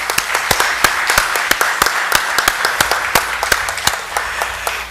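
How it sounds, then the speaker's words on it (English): Scattered applause from an evening audience for a speaker, a handful of distinct, close claps ringing out irregularly over a low room murmur for the whole stretch. "I really want us to give him another round of applause"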